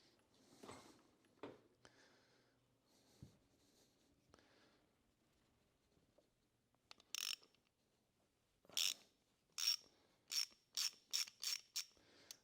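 A wrench works a small plug loose on a Harley M8 engine during a Feuling external breather install, with faint scrapes early on and then a run of sharp ratcheting clicks in quick bursts near the end.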